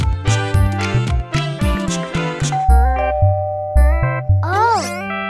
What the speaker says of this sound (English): It's a doorbell. Someone's at the door.